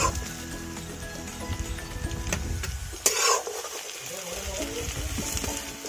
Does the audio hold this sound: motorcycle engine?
no